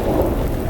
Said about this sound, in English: Got some thunder and lightning crackling overhead.